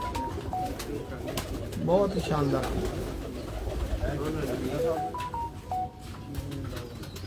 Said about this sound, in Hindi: हर तरह के कबूतर हैं खलीफा साहब